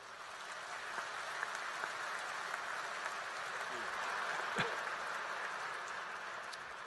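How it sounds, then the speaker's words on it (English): Crowd applause at a university spring commencement ceremony, a faint, steady, distant wash of clapping that sounds almost like rain, continuing evenly for several seconds with a few louder claps standing out. "Let's have a round of applause for these individuals."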